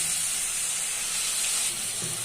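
Steady hiss and sizzle rise from a hot pan as water is poured over mustard and poppy seed paste, a continuous close bubbling steam sound with no talking.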